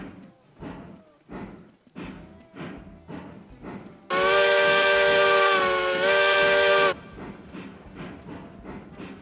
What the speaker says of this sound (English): There's no sound like the sound of steam on a whistle.